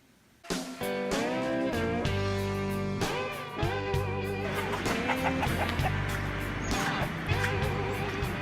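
Chickens cluck loudly and close up in a coop, a continuous overlapping chorus of harsh, throaty calls with a few sharper squawks.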